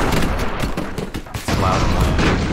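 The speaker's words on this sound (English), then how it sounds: "Set it on fire so that the lower cannon can shoot." Rapid bursts of cannon fire from an airship in the game Airships, loud, dense booming volleys crowding together in a steady barrage.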